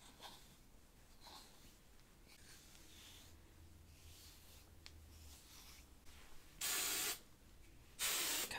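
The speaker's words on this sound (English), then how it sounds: "Kind of just spray it everywhere." Two short bursts of a spray bottle misting hair, each lasting about a second, loud and close, following quieter rustling.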